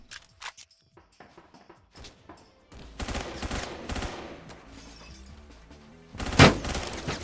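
Roblox Phantom Forces battle with scattered gunshots at first, then heavy automatic fire in rapid bursts, topped by a loud sharp blast near the end.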